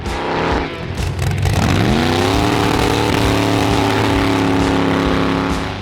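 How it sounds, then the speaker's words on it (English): A Chevrolet C68 rat-rod truck with a quad-turbo marine V12 engine, loud and close, revs up from idle and then holds a steady roaring drone with no talking. "the next truck raises the stakes with a Marine V12 fed by 4 turbochargers"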